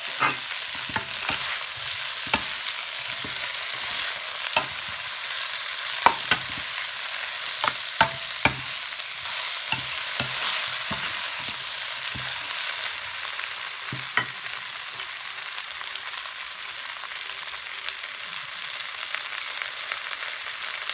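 Okra frying in a pan for a hot and spicy vegetable dish, a steady hiss punctuated by frequent sharp stirring scrapes and clicks throughout, close by with no voices.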